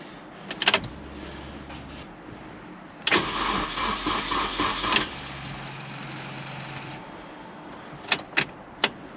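A Mini's engine cranks and fires for its first start, with a brief click, then a few seconds of loud, close cranking that catches into a running idle, followed by some sharp knocks near the end.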